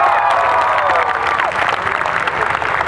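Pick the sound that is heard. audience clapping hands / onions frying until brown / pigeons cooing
audience clapping hands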